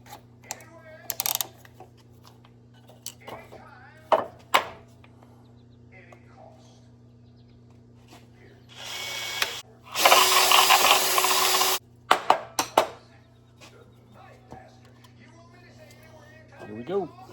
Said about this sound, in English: So now I gotta go back and drill a hole in this.